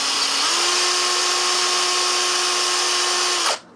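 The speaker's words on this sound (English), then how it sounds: "this drill bit is not sharp" Power drill with a dull bit boring through a metal brace for a motorcycle front motor mount, a steady high whine held for about three seconds and then cutting off abruptly.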